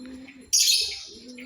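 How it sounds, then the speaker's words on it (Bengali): Old pet pigeons give a low, steady cooing hum, cut midway by a sudden loud, hissing rustle that fades over about half a second before the soft cooing returns. "মাঝে মাঝে আমার কবুতরগুলো খাওয়াই, পুরানো কবুতরগুলোকে খাওয়াই"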